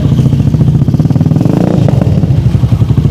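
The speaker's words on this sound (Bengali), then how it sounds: "এই দেখেন ইঞ্জিনের একদম স্মুথ একটা সাউন্ড" A motorcycle engine idling steadily and evenly up close, a smooth rhythmic putter throughout.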